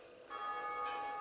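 A bell tolling in the video game Dark Souls, a single sustained metallic ring that swells in and hangs with bright lingering overtones, heard alone.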